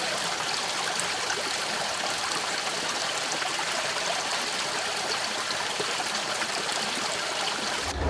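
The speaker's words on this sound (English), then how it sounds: "we're going to submerge it in the water" Steady rushing and trickling of water as a jewelweed plant is held under, a continuous close, fairly loud flow with no voices, cutting off abruptly at the end.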